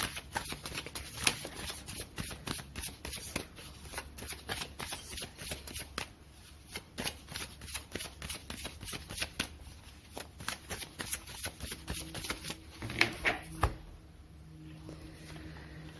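Tarot cards are shuffled close up in a quiet room, a run of soft rapid riffling flicks and slides repeating in bursts, fairly faint, with no voice heard.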